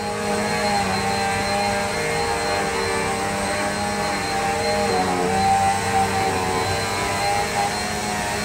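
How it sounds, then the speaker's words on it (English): A vacuum cleaner pushed by a child runs indoors, a loud, steady whining drone that holds for the whole stretch without talking. "Now, I'm going to show you what happens when we turn off the vacuum cleaner."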